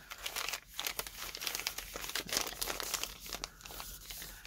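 Paper crinkles and rustles as a sheet is folded and tucked into an envelope flap, a steady close-up crumpling with no voices.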